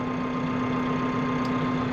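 A Massey Ferguson 6718S tractor engine idles steadily while piping slurry, a constant, even drone with a strong tonal hum, close and continuous, with no voices.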